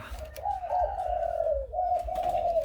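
Captive wild-caught doves cooing in a steady, close, drawn-out tone that rises and dips, with a brief break before continuing, over low background rumble.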